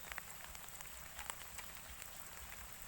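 Steady rain falling during a storm in Phetchabun, Thailand, a soft continuous hiss with occasional droplet ticks, fairly faint and with no voices.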